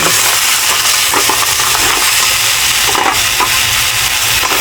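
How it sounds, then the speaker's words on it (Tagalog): Mussels are stirred with onion, garlic and ginger in a sizzling pot, shells scraping and clicking against each other and the metal in an irregular rhythm over continuous frying hiss. "Saka paghaluin lang natin."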